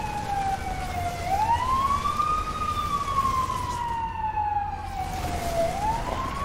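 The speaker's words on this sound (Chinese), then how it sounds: "还是救护车吗？ 这怎么听起来像消防车？" An emergency vehicle siren, like an ambulance or fire engine, wails loud and steady, its pitch sliding slowly down, up and back down over a constant roar of background noise.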